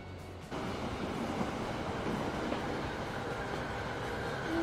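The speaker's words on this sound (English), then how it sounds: "That's a pretty good looking train." A train in the video game Transport Fever 2 rolls along with a steady, dense rumble of wheels and track noise, growing slightly louder after a brief quieter start, with no talking.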